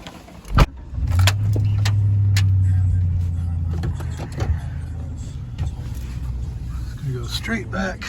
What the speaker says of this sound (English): get this gate open so I can pull the truck back